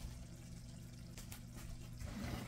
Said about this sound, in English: 1 cup of water.